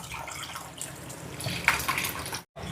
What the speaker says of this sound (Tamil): புளியை சேர்க்குறேன்.